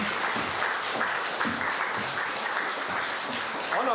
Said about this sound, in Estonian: teeme aplausi Pilistvere rahvale